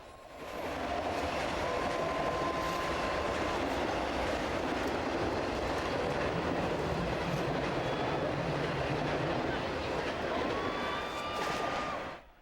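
A train rumbles past close by with a steady roar, faint wheel squeals and clatter, lasting about eleven seconds before fading out.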